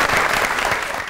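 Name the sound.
studio audience applause welcoming the show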